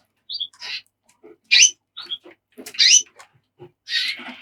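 Small birds in an aviary chirp and tweet in short, bright bursts with brief pauses between calls, fairly close and clear against a quiet background.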